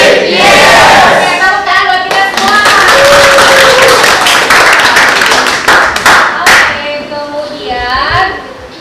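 A classroom of students claps loudly in bursts during a chemistry lesson, with the sharp, dense clapping mixed with cheering voices and shouts, fading toward the end as chatter continues.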